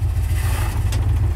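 The engine of a 1967 Dodge D200 field-find pickup with a rusty flywheel runs up close, a loud, rough low rumble with a steady pulsing idle throughout the short stretch.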